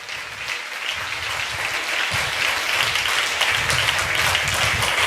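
A church congregation claps together at a Tamil promise worship service, with a loud, sustained round of applause that builds slightly over several seconds, dense and continuous with no talking on top.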